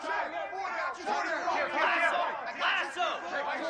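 A home crowd at a Miami vs Tennessee football game yells and cheers as a dense, surging mass of many voices that rises and falls in waves.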